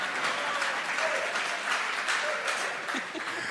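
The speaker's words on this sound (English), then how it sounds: "We got 8 claps that time" An audience claps steadily at a live talk event on relationships, a dense, even burst of applause lasting a few seconds, loud and near, with faint voices underneath.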